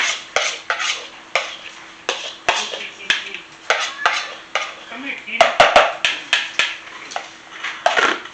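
Chopped artichoke hearts from a jar are spooned into a bowl of white beans, with repeated crisp spoon taps and clinks against glass and bowl in an uneven rhythm, close by, with soft scraping between them.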